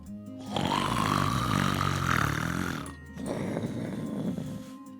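A voice imitating loud snoring: a long rumbling, throaty inhale-like snore followed by a second shorter rattling one, close and loud.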